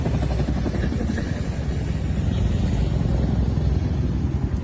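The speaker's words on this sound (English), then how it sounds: "se escuchan helicópteros" Several military helicopters passing overhead at night during an attack on a fort, a dense continuous rotor and engine roar, loud and unbroken, with no talking.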